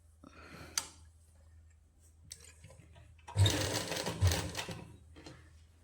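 A sewing machine stitches a sleeve seam on a winter suit for a one-and-a-half-year-old boy, running in one close, steady burst of about a second and a half after quiet handling sounds.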